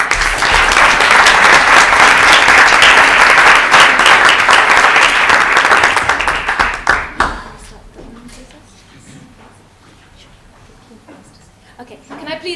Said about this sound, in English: So please join me in a round of applause before we start the honouring process.